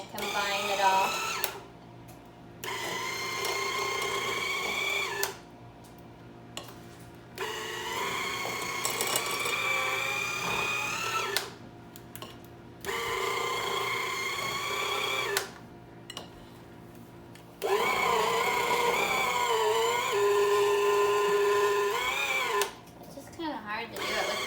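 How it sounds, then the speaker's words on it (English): An electric stand mixer on low speed beats vegan brownie batter in several bursts of whirring motor noise separated by short pauses, loud and close, with someone talking between and over the runs. "You can combine it on the mixer just on low again."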